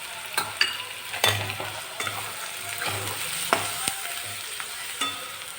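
Mixed vegetables with turmeric, coriander powder and garam masala sauté in a pan, giving a steady close sizzle broken by sharp clinks and scrapes of stirring.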